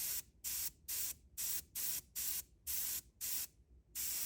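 Tamiya LP70 gloss aluminum lacquer sprayed from an airbrush onto a model motorcycle part, in about nine short hissing bursts with brief gaps, close and steady.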